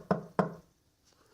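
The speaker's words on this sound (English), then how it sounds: "One of them walked up and banged on the door." Two heavy knocks bang on a wooden cabin door in quick succession, loud and close, followed by quiet.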